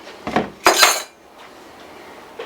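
A measuring spoon tips a heaping teaspoon of cornstarch into a bowl, with two quick metallic clinks and scrapes close by, then quiet.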